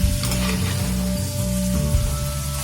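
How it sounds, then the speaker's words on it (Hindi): Chunks of elephant yam (suran) fry in hot oil over a flame, giving a steady, even sizzle throughout with no voices. "फ्लेम पे इसे हम फ्राई कर लेंगे।"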